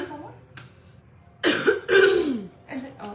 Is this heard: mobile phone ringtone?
no